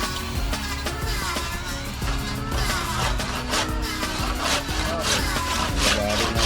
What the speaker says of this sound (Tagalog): Lagari na ito.